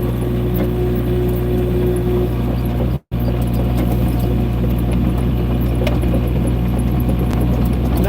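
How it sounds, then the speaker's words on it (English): A motor runs in a continuous, loud, close droning hum with steady tones, broken only by a brief dropout near the middle. "hearing the motor running"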